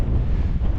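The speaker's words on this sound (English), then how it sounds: "There's a bit of a wind chill coming in now." Wind blowing across an exposed Lake District fell ridge, a steady, loud rush buffeting the microphone with a low rumbling roar and no voices.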